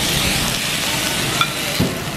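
Beef pepper rice with corn and green onion cooks on a hot iron plate in a steady, close sizzle with soft crackles and a couple of small clinks, and nobody talks.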